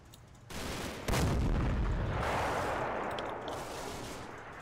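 A tank gun fires at a half-track in the WWII video game Combat Mission, one loud booming shot with a long rumbling decay, preceded by a lower rumble of battle noise.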